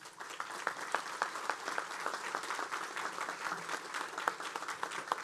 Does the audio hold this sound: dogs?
no